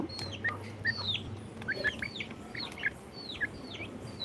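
Native country chickens feeding on poultry feed, giving short repeated chirps and clucks scattered across the moment over a low background rumble, fairly close and moderate in level.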